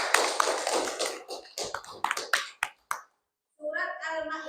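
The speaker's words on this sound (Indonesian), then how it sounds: "Iya, tepuk tangannya." A group in an Islamic lesson claps hands in quick, bright bursts that thin out into scattered claps before stopping. A voice follows after a short silence.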